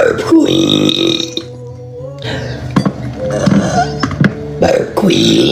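A woman lets out a run of loud, close belches, some drawn out and some short and croaky, one after another with small gaps.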